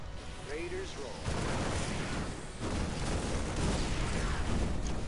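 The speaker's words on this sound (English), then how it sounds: "I love getting explosions for Christmas" Explosions in the StarCraft 2 video game: sustained rumbling blasts and crackling bursts in a loud, continuous wash of battle noise, with faint game voices underneath.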